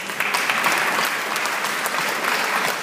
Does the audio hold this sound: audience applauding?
yes